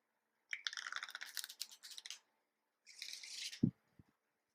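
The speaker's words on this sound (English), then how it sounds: "I can go ahead and give the deck a shuffle" A deck of playing cards shuffled by hand before a beginner's card trick, two short bursts of crisp riffling close by, separated by a pause, ending with a soft tap as the deck is squared.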